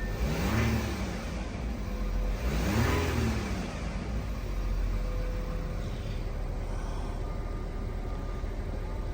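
An Audi A6 C7 3.0 TDI diesel engine revs twice in quick succession, close and loud, then settles back to a steady idle with no one speaking.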